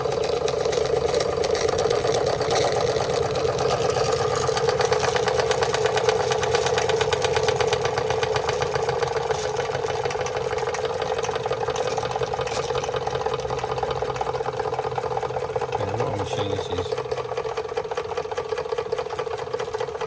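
Marklin 16051 twin-cylinder toy steam engine running steadily, a continuous close mechanical whir and chuff with a brief faint hiss near the end, no talking.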